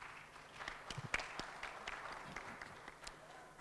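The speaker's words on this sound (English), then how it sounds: "And they deserve a round of applause for this." Audience at a ministerial panel on fertility care giving a round of applause, faint and distant scattered clapping at low level with no talk over it.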